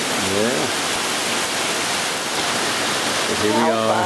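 Floodwater from Lake Cascade roars over a washed-out road in a loud, constant rush, with brief voices speaking at the start and end.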